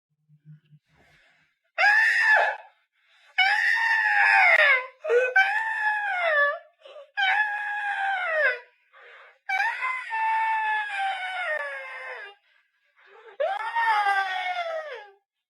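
A man imitates women's screams: a series of long, high, wavering wails and shrieks, each a second or two, separated by short silences, loud and close with no other sound behind them.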